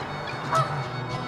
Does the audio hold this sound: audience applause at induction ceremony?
no